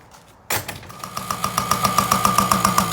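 Yamaha PW80 dirt bike engine starts abruptly after a short quiet moment, then settles into a steady, close, rhythmic two-stroke idle with regular pulsing beats, with no talk over it.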